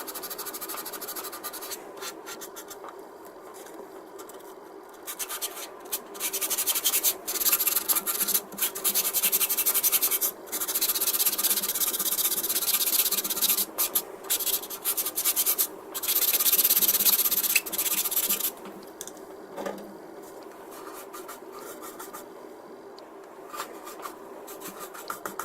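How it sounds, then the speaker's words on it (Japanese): A sponge sanding file rubs over the curved parts of a 1/32 scale plastic Tornado GR.1 model kit in steady, close scratchy strokes, louder stretches broken by brief pauses, with no talking. "こういう R の部分は、特にね、スポンジヤスリが効果的に機能してくれると思います"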